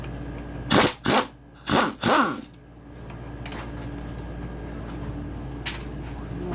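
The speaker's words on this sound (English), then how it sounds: "Now I might be able to get on it with the impact" An impact wrench hammers at a bolt on a Kawasaki KX85/KX100 motorcycle engine during a top-end rebuild, firing four short, loud bursts in quick succession, then falling to quiet workshop background.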